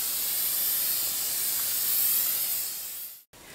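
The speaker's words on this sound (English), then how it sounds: "Stand back and spray it so that I'm not going to lose all my little dust particles." A steady, close aerosol fixative spray hisses continuously over a charcoal drawing for about three seconds, then cuts off abruptly before a brief resumption.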